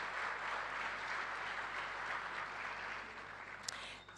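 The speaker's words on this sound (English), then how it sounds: "a warm round of applause, ladies and gentlemen, to the department" A roomful of guests at the 2025 South African Women In Science Awards applaud, a broad even wash of clapping that holds steady and begins to thin near the end, with one sharper clap standing out.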